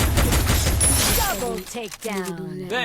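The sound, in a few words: gunfire in a video game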